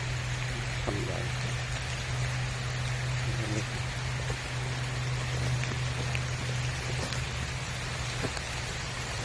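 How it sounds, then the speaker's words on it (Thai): Steady rain falls on the grounds of a Thai temple abroad during a storm, a dense, even patter that runs unbroken throughout, with a low steady hum underneath and no speech. "ฝนก็ตก"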